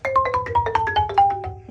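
A quick run of bright, hard-struck percussive notes, about a dozen strikes in rapid succession, each with a sharp attack and ringing tone.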